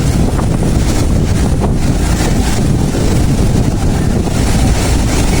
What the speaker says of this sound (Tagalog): Malalaki ang alon